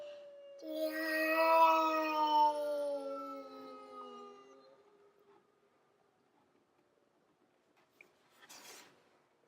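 A toy tornado siren sounds one wailing tone that swells, holds and slowly fades over about four seconds. Near silence follows, with a brief faint rustle near the end.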